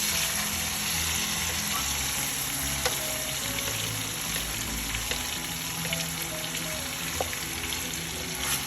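Sea bass fries in a pan with a steady, dense sizzle and crackle that never lets up, with occasional small pops and a faint hum underneath.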